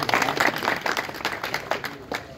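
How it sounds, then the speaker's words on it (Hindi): Audience clapping for a guest being garlanded at a ceremony in Lahore, lively and uneven with individual claps standing out, likely mixed with some crowd noise over its short span. "जोरदार तालियां।"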